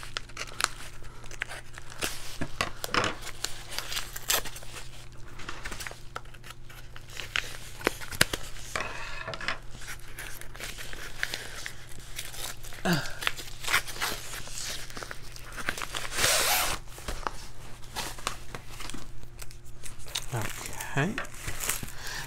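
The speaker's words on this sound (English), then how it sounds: "I'm just going to cut these open because this is some very strong glue." Diamond painting kit bags being cut open and torn, crinkling plastic and scattered sharp snips and rips at close range, with a brief longer tearing burst midway.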